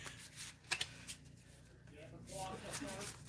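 A tarot card deck being riffle shuffled nearby, with short crisp ruffling bursts followed by a softer riffle and cascade of cards, fairly quiet and up close, with a voice speaking over part of it.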